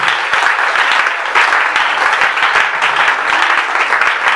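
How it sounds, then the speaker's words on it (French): A church congregation at a Sunday worship service applauds loudly for Jesus, a dense, continuous roar of clapping from a standing crowd that holds steady throughout. "Nous acclamons très fort pour la gloire de Jésus."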